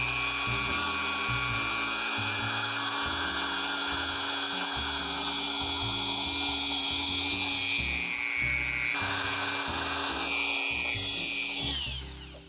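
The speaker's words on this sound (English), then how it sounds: "This vinyl fish, plastic, whatever it is, drills through really easily." A power drill bores holes through a vinyl plastic fish for a fish trap light, its motor whining steadily and loud with shifting low grinding pulses throughout, ending abruptly.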